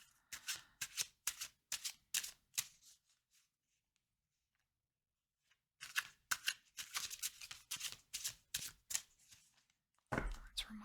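Tarot cards are shuffled up close in quick bursts of soft riffling flutters, with a quiet pause midway before the brisk shuffling resumes, and no voices.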